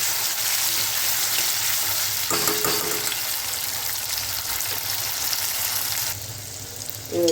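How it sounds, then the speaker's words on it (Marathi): Onion, tomato and whole garam masala with chilli powder frying in oil, a steady loud sizzle with a few stirring scrapes partway through and a brief clatter at the end. "तिखट टाकतो आणि याला चांगला भाजून घेतो या मसाल्याला"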